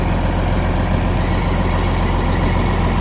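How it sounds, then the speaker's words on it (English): A concrete pump truck's diesel engine runs at a house construction site, a loud, steady, low idle rumble with no breaks and no voices. "Just waiting for the concrete truck to show up, because this one here is the pumper."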